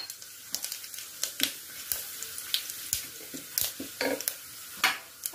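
Bay leaf, cinnamon and whole cumin sizzle in hot mustard oil, a steady crackling fry broken by sharp pops and the scrape of stirring, close and fairly busy throughout.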